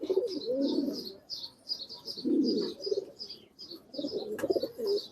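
Pet pigeons in a fancier's loft cooing in soft, low repeated phrases, close by, over a steady background of chirping from other birds.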